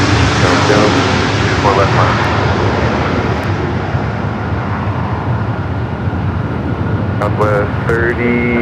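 Airliner jet engines roar at LAX airport, a loud sustained broadband rumble and whine with shifting tones, while voices on a radio-like channel talk over it at the start and end.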